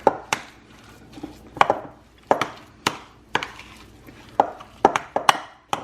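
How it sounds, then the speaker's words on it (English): Firm cherry cheesecake ice cream being worked with mix-ins stirred through it, giving a series of sharp scraping, clacking knocks of utensil against container, irregular and fairly close, with no talking. "Hopefully I can mix it in."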